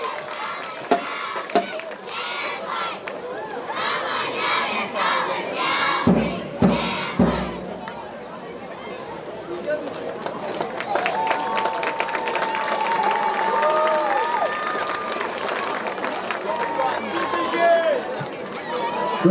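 Crowd cheering and clapping for high school cheerleaders at a varsity football game, loud sustained applause and shouts from the stands, with an announcer's voice over the public address and scattered whistles.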